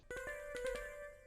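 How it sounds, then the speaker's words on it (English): A short synth accent pluck for a rage trap melody fires a quick run of bright, percussive notes with ringing tails, close and moderately quiet, with no talking. "This is a little accent pluck."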